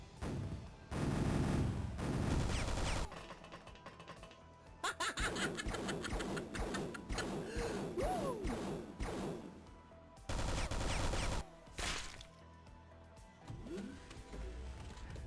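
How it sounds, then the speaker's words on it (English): Repeated bursts of machine gun fire in the OpenXcom Piratez strategy game, several long rattling volleys separated by short gaps, with other clattering combat effects between them, all fairly quiet. "endures a terrifying barrage of machine gun fire from 2 sides"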